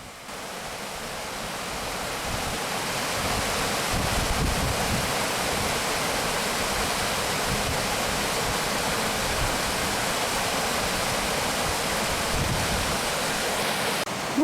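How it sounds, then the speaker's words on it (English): Stickle Gill, a mountain stream with a waterfall in the Lake District's Langdales, rushes as a steady, loud, broad wash of water, unbroken throughout. "We can see a waterfall in the back"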